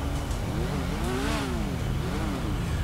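A white-and-gold Yamaha XJ6 motorcycle in modded GTA V revs hard, its engine pitch sweeping up and down in repeated surges over a steady droning background.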